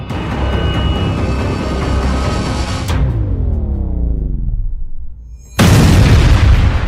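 A loud blast from the Krasnodar explosion, a dense roaring boom that rolls on for several seconds, then thins into a sweeping, fading rumble before a second burst of heavy, close roar cuts in.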